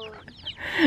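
A chicken gives a brief, close cluck that rises into a short squawk at the end, with faint background noise.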